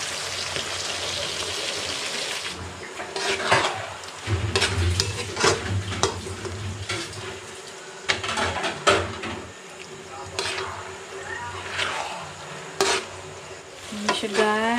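Cooking oil crackles and sizzles in a pan in a rural Philippine kitchen, a steady close hiss with stirring scrapes and clatter scattered throughout, and no talk.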